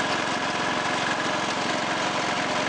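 A 1986 Toro 11-32 lawn tractor engine runs at a steady idle, a loud, even mid-pitched drone with a rapid, regular firing pulse throughout and no voices.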